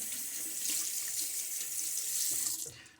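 Water running from a tap into a sink while shaving lather is being hydrated, a steady close hiss of flowing water lasting nearly three seconds before tapering off.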